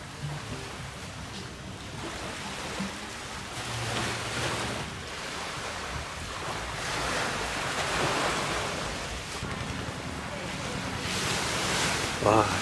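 Ocean waves wash onto a beach on Koh Lipe, Thailand, in slow, swelling surges, with wind buffeting the microphone.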